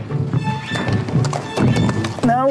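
Horse hooves clop and thud close by in an uneven walking rhythm, with a brief whinny-like sound near the end.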